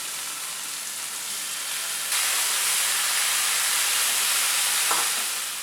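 Loud, continuous sizzling of chicken pieces searing in a hot pan, intensifying partway through as more pieces hit the oil.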